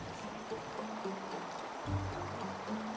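A natural stream flows beside a campsite in a soft, steady wash of water, with faint low tones and a brief dull knock drifting over the continuous trickle.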